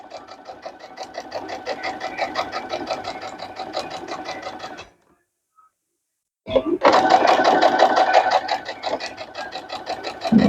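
Sewing machine top stitching the edge of a fabric potholder, a rapid, even mechanical whirr that runs for about five seconds, stops for a short pause, then starts again louder and continues steadily.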